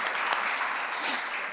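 Brief burst of steady clapping from a church congregation, fairly faint and distant, continuing evenly without voices.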